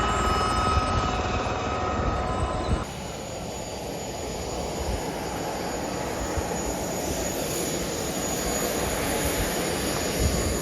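A large agricultural drone sowing oilseed rape seed approaches on a drizzly morning over a field, its engine a steady, loud buzzing whir that fills the whole stretch with no talking.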